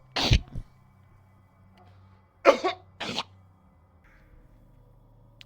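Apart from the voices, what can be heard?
coughing fit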